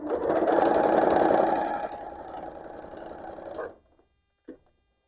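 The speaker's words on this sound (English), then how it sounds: "now you can chain sew these, so that makes it super easy" A sewing machine chain-sews quilt fabric pieces with a quarter-inch seam, running fast and loud, then slowing to a steadier hum before stopping, followed by a single short click.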